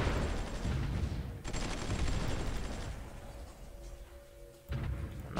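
Tank gunfire in the strategy game Supreme Ruler 2020 during a Uruguay versus Paraguay battle: dense, continuous rumbling bursts of shots and explosions, loud and close, with a brief break before a final burst.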